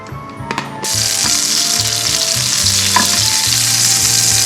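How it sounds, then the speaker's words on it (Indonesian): Butter sizzles in a pan as a mashed potato and carrot mixture is sautéed, giving a loud continuous frying hiss that starts abruptly after a few clinks and runs on with steady stirring scrapes up close. "Sekarang mau langsung ditumis bikin adonannya. Saya masukin butter."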